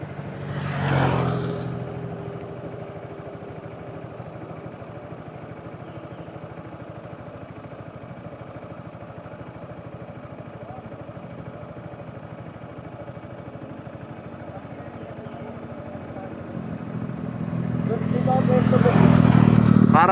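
Yamaha XMAX scooter engine running steadily through a ride, a continuous low drone with louder surges near the start and end, with people talking over it.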